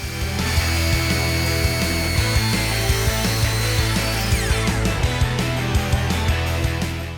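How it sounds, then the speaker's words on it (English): A saw blade cuts through an aluminum extrusion bar with a continuous, loud, high-pitched metallic whine, ticking rhythmically as the teeth bite, and the pitch shifts partway through the cut. "When you're cutting, it's important to go slow and let the blade do all the work."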